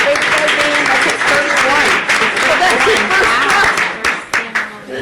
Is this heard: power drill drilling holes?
no